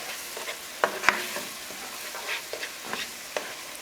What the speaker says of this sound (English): we're going to mix this in really good